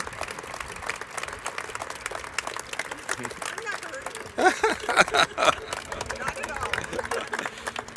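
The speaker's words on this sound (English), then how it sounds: "Give her a round of applause for that." Audience applause at a Dinner on the Diamond charity dinner celebrating a pancreatic cancer survivor, a scattered clapping burst rising midway over room chatter and background voices.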